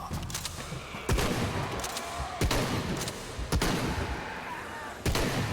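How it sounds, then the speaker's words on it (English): Shotgun blasts in Shadow of the Tomb Raider, about five heavy booming shots spaced roughly a second apart over a busy background of combat noise. "This shotgun feels really quite good, actually"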